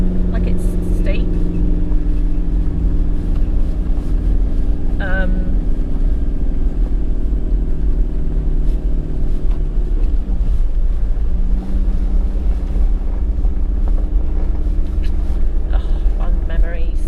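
A four-wheel-drive vehicle grinding up a steep forest track at Sandy Point near Orbost, Victoria, with a steady, loud low engine drone and rumble throughout, wind buffeting the microphone.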